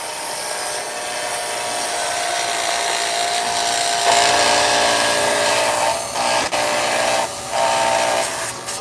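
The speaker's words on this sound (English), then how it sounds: "it sounds like my blade's struggling a little bit" A lapidary saw blade grinds steadily through Royston turquoise stone, a continuous loud rasping whine that shifts in pitch and strains slightly partway through, with brief dips near the end as the cut changes.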